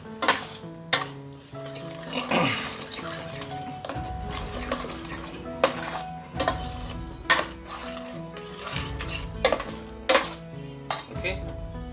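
Pureed spinach goes into a pan for palak paneer and is stirred, with metallic clanks and scrapes of the utensil against the pan over a light sizzle and some talking.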